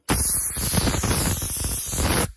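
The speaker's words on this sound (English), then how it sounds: "let's take an air compressor, hook it up to some air" Compressed air from an air compressor blows dust off sanded kitchen cabinets in a single loud, steady hiss lasting about two seconds, starting and stopping abruptly.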